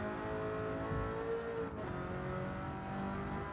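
Alfa Romeo 8C in Gran Turismo 7 on Tokyo Expressway, engine on overrun in third gear as power comes off; a steady, loud droning tone that dips slightly midway, continuous throughout with no talking.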